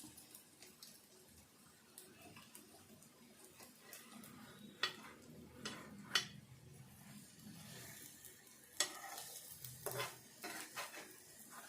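Egg vadas fry in oil in a pan, giving a faint, soft sizzle under occasional clinks and scrapes of a utensil against the pan, quiet throughout with no talk.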